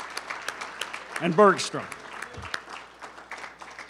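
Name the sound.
audience applause at a sponsor announcement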